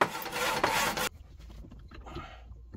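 A crescent wrench works a fitting loose on a Spectra Catalina 300 MKII boat watermaker, giving a loud, close rasping scrape for about a second, then fainter scattered metallic scrapes and taps.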